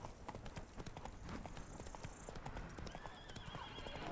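Roach, the horse in The Witcher 3, gallops in fast, rhythmic hoofbeats, close and clear, and a whinny rises near the end over quiet game ambience.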